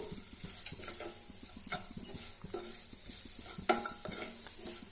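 Spices including salt, chili powder, coriander powder, turmeric and garam masala are stirred into onions frying in a pan for a palak soya curry, with close scraping strokes over a steady sizzle and no talking.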